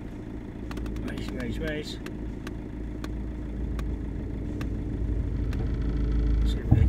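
Land Rover Freelander engine running in first gear with the clutch held down, a steady low rumble from inside the car that swells slightly toward the end, with someone talking over it.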